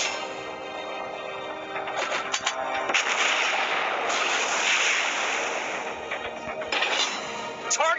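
Heavy gunfire booms in rapid bursts over a continuous roar of noise: the battleship Bismarck's secondary guns firing in World of Warships Blitz.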